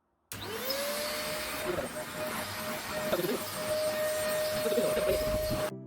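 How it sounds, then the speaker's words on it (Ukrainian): A Xiaomi Deerma DX115C corded vacuum cleaner is switched on and spins up to a steady, loud, high whine with a rushing hiss of air, running without a break and with faint speech beneath it. "Пилосос від компанії Дірма"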